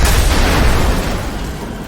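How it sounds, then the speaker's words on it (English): A loud explosion at an elevator in SOMA, a heavy broad rumble that starts at full strength and slowly fades across two seconds. "We got an explosion where the elevator was"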